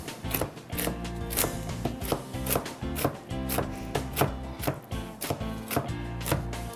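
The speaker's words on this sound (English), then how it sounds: "It's about a cup of walnuts, and I'm going to cut it so that they're just coarse." A knife coarsely chopping about a cup of walnuts on a board for banana bread, steady rapid taps in an even rhythm, close and clear with no talking.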